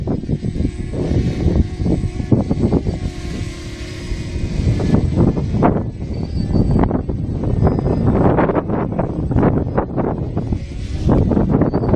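Strong wind blowing outdoors, loud gusting rumble buffeting a nearby microphone throughout, with a faint motor whine of a flying quadcopter drone behind it.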